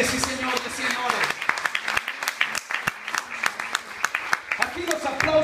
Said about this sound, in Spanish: Aquí los aplausos son para el Rey de Reyes y Señor de Señores